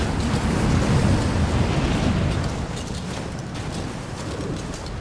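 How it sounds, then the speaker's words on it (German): Strong mountain wind roars in Rise of the Tomb Raider, a broad, steady rushing gust that is loudest at first and eases slightly halfway through, heard alone without voices. "Dieser Wind ist Wahnsinn."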